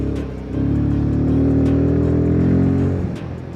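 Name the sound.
Royal Enfield Himalayan 450 motorcycle engine bogging while riding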